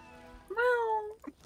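A cartoonish cat meows once in the video game Divinity: Original Sin 2, a clear, rising-then-falling cry of about half a second, followed by short soft chirps.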